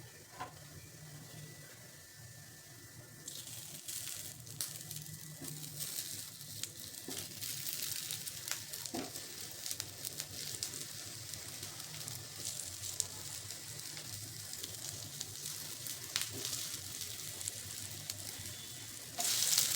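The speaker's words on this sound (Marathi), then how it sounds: "तर छान अशा कुरकुरीत होईपर्यंत आपल्याला फ्राय करून घ्यायचं." Colocasia leaf rolls (alu vadi) shallow-fry on a hot griddle, with a steady close crackling sizzle that swells after a few seconds and carries on evenly to the end.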